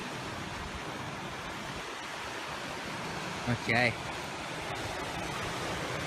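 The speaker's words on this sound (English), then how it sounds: "There's hardly any waves, they're pretty tiny." Tiny waves washing onto a flat beach make a soft, steady surf-like rush, blended with wind noise; a person briefly speaks a single word partway through.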